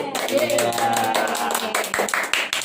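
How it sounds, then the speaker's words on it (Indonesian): Audience clapping at an anti-drug youth talk, a dense burst of applause that thins into scattered claps, with a voice speaking over it. "Oke, tepuk tangan dulu."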